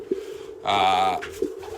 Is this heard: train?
no